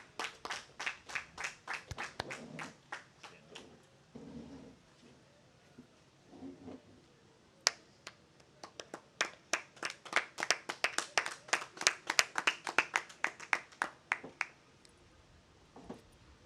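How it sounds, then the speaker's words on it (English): Scattered, uneven hand claps from a small crowd of onlookers at a Labor Day parade cheering a veterans post, close and sparse at first, pausing, then building into a denser burst before fading out. "Let's give a round of applause for Post 470."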